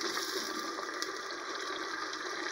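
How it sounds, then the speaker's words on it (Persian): Water pours steadily into a cooking pot for a pot of beans and chickpeas, a continuous bright splashing gush heard up close without any talking. "آب بهش اضافه میکنیم"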